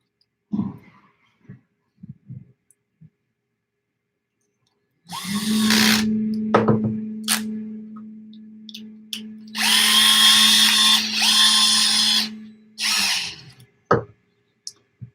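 An 8-volt cordless power drill driving parts while an RC kit is assembled, with two sustained whirring bursts of several seconds each, close and loud, plus a few short clicks and taps between them.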